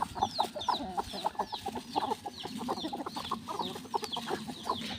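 Chickens cluck in quick, busy bursts close by, joined by high chirping calls, and the flock stays steadily noisy from start to finish.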